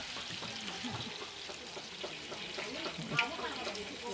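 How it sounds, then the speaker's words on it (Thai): Beaten egg poured into hot oil in a pan for a Thai omelette, giving a steady close sizzle and crackle with soft stirring and one brief louder pop, under a low voice. "เราก็จะตักไข่ใส่ลงไป"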